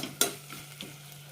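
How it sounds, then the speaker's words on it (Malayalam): Tomatoes sauté in a pan for a biryani, giving a soft, faint sizzle with a few light scraping stirs, one sharper clink near the start. "തക്കാളി നന്നായി വഴന്ന് വെന്തുടയണം."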